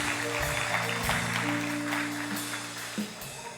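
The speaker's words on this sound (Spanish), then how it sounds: "Dale un fuerte aplauso al Señor en este día." Congregation applause in a church service, clapping spread through the room over sustained organ or keyboard chords, the clapping fading slightly toward the end.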